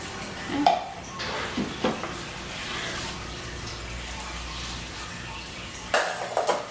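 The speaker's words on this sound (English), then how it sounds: "then I will stir that all together" Cake batter for a Coca-Cola cake stirred in a bowl, with soft scraping and a few light clinks of the utensil against the bowl, fairly close and steady, with no talking.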